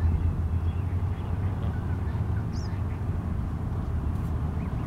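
Geese near a curbside tree call with duck-like honks and quacks over steady low outdoor rumble, faint and scattered across the background.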